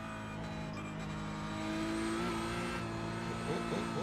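Race car engine in the Project Cars 2 racing game, a steady sustained drone with a slight rise in pitch partway through and faint hints of tire squeal, moderately quiet throughout.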